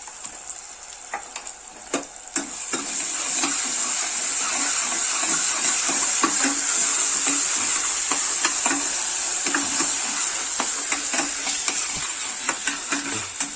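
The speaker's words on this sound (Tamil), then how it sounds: "தக்காளி நல்லா வதங்கின அப்புறம் நம்ம இஞ்சி பூண்டு சேர்த்துக்கலாம்" Tomatoes and ginger-garlic paste sauté in a pan for a chicken gravy, a loud, steady sizzle and hiss running throughout, punctuated by frequent stirring scrapes and clicks, with no voices.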